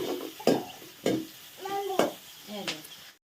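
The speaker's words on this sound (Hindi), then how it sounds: "प्याज भुजा गया है और अब कोनार साग को डाल रही है" Fried onions sizzle and konar greens are stirred in a pan, with scraping spatula strokes recurring every second or so, close and moderate, while someone talks in the background.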